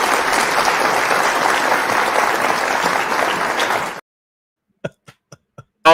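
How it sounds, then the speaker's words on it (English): A crowd gives a round of applause, a steady dense wash of clapping that cuts off abruptly, followed by silence and a few scattered coughs or throat-clearing sounds. "Round of applause for you there."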